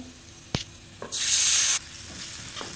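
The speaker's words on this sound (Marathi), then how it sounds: "याच्यानंतर मी अर्धा ग्लास पाणी टाकते" Half a glass of water poured into masala frying in a pan with turmeric, red chilli and salt: a brief clack, then a loud burst of hissing sizzle lasting under a second, fading to a low simmer with soft stirring knocks, no talking.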